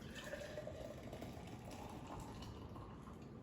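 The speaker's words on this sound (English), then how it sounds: "I'm just gonna go ahead and add this water" Hot water pours steadily into an insulated mug holding lemon, a soft, continuous trickle of liquid at close range with faint background hiss and no talking.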